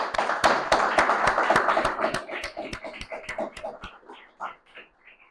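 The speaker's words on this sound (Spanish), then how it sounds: "lo despedimos con un fuerte aplauso al doctor" A university lecture audience applauds at the close of a talk on victims' rights, with sharp, rhythmic claps that thin out and fade over several seconds.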